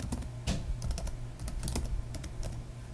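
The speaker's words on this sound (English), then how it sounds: "that's not what I'm typing this in for" Typing on a computer keyboard while entering login details, with irregular bursts of key clicks spread across about three seconds at moderate, close range, with no talking.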